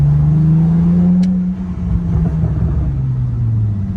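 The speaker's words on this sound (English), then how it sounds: "I can show you what it revs like." BMW E46 engine with a common vacuum leak, a CCV delete fitted, revving up and easing back down, loud and close with a steady rumbling drone and no talking.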